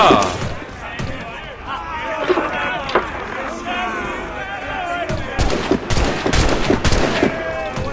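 Muskets and cannons fire during a naval boarding battle in Assassin's Creed Rogue as sharp shots crack over crowd shouting and ship noise, growing denser toward the end. Someone talks over the fighting.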